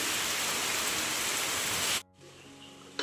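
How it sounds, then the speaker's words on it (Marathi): Heavy rain pours outside in the wind, a dense, loud hiss that runs for about two seconds before cutting off abruptly to a quiet background; no voices are heard. "पाऊस कसा मस्त पाऊस पडतोय."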